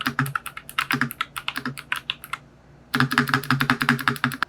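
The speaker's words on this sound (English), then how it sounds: "here is the actual sound of the ROG RX Blue" Fast, crisp clicking from typing on an ASUS ROG Strix Scope RX TKL keyboard with ROG RX Blue switches, close and loud, with a short pause midway before the keystrokes resume.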